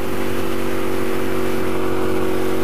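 A motorcycle engine held at high revs toward its 12,000 RPM redline, a loud, steady, close mechanical whine with strong even tones and no talking.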